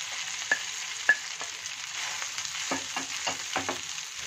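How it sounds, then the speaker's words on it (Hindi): Grated boiled potatoes frying in desi ghee in a hot pan, a soft continuous sizzle broken by several sharp taps and scrapes as a spatula presses the mash down. "आलू को फ्राई करते टाइम थोड़ा सा स्पैटुला से दबा देना है, जिससे कोई लम्स ना रहे।"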